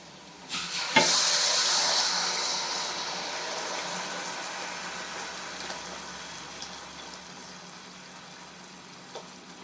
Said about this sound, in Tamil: இப்போ புளிக்கரைசலை ஊற்றுவோம்.